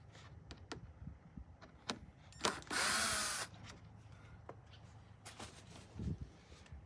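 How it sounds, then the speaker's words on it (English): A power screwdriver briefly whirs while undoing screws on Remis blinds inside a Mercedes-Benz Sprinter camper van, one short burst among small handling clicks and knocks. "I'm going to undo the screws, put a dab of paint on"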